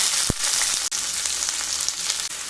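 Sliced onions frying in hot mustard oil with black cumin, a steady loud broadband sizzle with a brief sharp crackle near the start and no voices.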